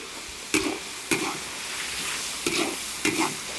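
Pork stir-fried in a hot wok with fat rendering out, a steady loud sizzle broken by several sharp scrapes and clanks of the spatula stirring at irregular intervals.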